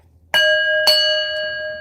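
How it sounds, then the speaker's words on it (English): A single bell is struck twice, each ring a bright, clear metallic tone that sustains and slowly decays, loud and alone in an otherwise quiet room. "let's ring the bell on that"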